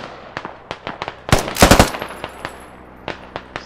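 M240 heavy machine gun firing in Squad V12, a tight burst of rapid loud shots midway, surrounded by scattered single distant gunshots and faint background rumble.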